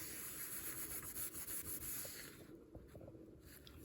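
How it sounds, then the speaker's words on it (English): A baking soda mixture is rubbed into a stain on a quartz countertop in quick, repeated gritty scrubbing strokes, close and rhythmic. The strokes soften and turn more sporadic near the end. "I'm going to try taking the baking soda mixture and like rubbing it into it."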